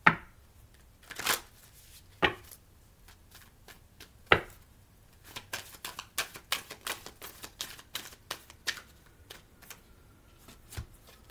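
A Moonology oracle card deck shuffled during a tarot-style reading, heard as close, soft flicks and taps that build into a quick, even run of riffling card sounds, with no speech.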